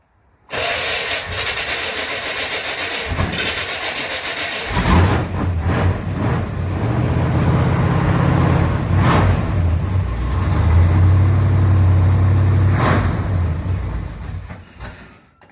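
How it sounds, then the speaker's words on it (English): Chevrolet Camaro Z28 project car engine being cranked on a cold start, a steady hiss and grinding churn that swells into a louder, rougher low rumble midway, with brief sharp bursts, close and loud. "Cold start for the day."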